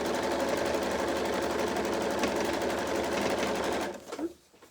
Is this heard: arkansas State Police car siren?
no